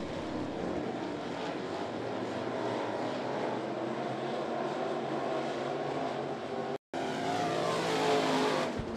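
Pro Late Model race cars racing at Ponderosa Speedway during a heat, with a continuous engine roar from a field of cars that rises and fades as they pass, cut by a brief gap near the end.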